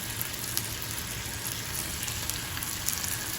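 Chopped garlic and thyme sauté in a pan for jambalaya, giving off a steady, close, continuous sizzle with faint crackles throughout and no voices.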